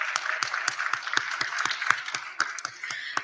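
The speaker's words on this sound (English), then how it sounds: "let's just give another warm round of applause for all of our presenters" Applause for presenters at an ALS research symposium, made up of sparse, distinct handclaps in a loose, fairly regular rhythm from a small group, close and moderately loud.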